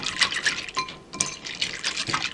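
Wet, sticky stirring of chocolate ganache in a bowl, a spoon swirling through thick liquid with soft scraping and gloopy splashes, close and continuous.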